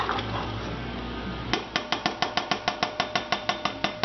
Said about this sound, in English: Now I put all the beans in the pot here, and I will add them.